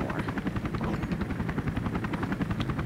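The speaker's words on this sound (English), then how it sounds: "So this helicopter is going to get away" A helicopter in the video game 007 Agent Under Fire flies off, its rotor chop a steady, fast, throbbing pulse over a low engine rumble, with no talking.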